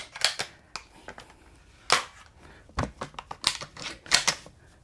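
Shotgun shells are pulled one at a time from the magazine tube of an Axor Arms Bushpig 2.0 shotgun, giving sharp, close clicks and clacks in an irregular rhythm with brief pauses.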